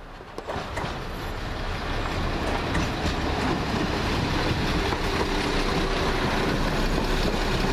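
A Class 172 passenger train rolls in steadily at Dorridge station, wheels clattering and rumbling close by, with a faint squeal from the rails and no voices.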